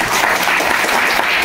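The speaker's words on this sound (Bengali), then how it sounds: "সবাই হাততালি দিয়ে" An audience claps steadily and loudly in a dense, continuous burst of applause, close and filling the space, with no pauses.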